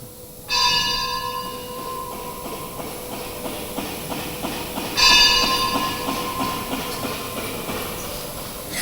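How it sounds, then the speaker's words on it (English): A bell rings during a gathering: two bright struck tones a few seconds apart, each ringing out and decaying slowly over a steady hiss. "I'll just wait for the bell a second."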